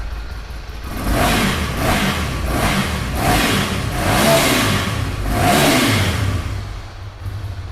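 A motorcycle, a Monster 821 or 795 with its stock exhaust, revs up again and again: about five loud, rising throttle blips over a steady idle, close by with no talk.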